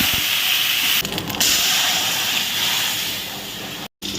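Cumin seeds and dried red chillies tempering in hot oil for a Bengali banana-flower dish, a steady close hiss of sizzling that runs almost unbroken, with a brief dropout near the end.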